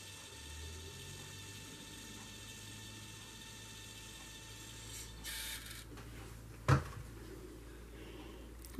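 A small rechargeable battery-powered printer prints a picture, giving a faint steady mechanical whir and low hum with soft gear and ratchet clicking, ending in a couple of sharper clicks as it finishes. No talk.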